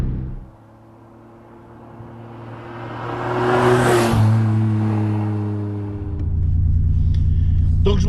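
An Alpine Renault A310 with a V6 engine drives, its low engine drone swelling as it accelerates, easing off, then rising again, heard steadily from inside the car.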